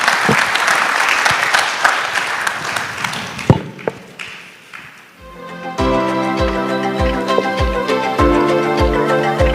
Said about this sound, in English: A big round of applause for the panelists, please.